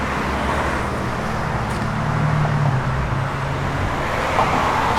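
A 1962 Pontiac Catalina with a 4-speed manual transmission drives along, its engine a steady low rumble with road noise that holds evenly throughout, no talking.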